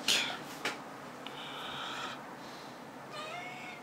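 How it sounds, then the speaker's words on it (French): A small house cat meows several times near an open window on a sunny day, short bright calls separated by pauses, with faint room noise and no talking. "Ça, vous entendez, il y a mon petit chat."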